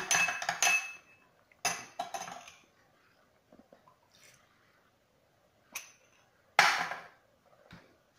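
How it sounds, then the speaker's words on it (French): Spoon clinking against a bowl while stirring saffron and a stock cube into a little hot water, several short bright scrapes and taps in bursts separated by quiet pauses, close up. "ici j'ai mélangé le safran, le cube, dans un peu d'eau chaude. Je vais bien mélanger"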